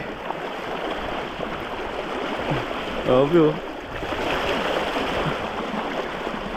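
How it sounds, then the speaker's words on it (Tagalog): Strong river current rushing at Daraitan, Tanay, Rizal, a steady broad wash of water running throughout, with a brief exclaiming voice in the middle. "Ang lakas ng current ng tubig."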